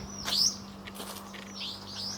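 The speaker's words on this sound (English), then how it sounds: "you can hear the birds" Birds chirp in a backyard garden, a few short tweets near the start and a softer call toward the end over a faint steady hum, with no talk.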